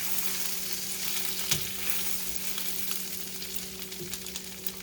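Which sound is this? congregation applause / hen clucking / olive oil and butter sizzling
olive oil and butter sizzling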